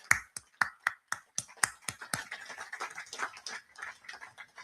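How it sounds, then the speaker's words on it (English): Scattered claps rise from a commencement crowd in rain-soaked stadium stands at the U.S. Naval Academy, honoring graduates' parents; a handful of distinct, fairly faint claps come first, then thicken into a denser, uneven patter. "A big round of applause for your parents."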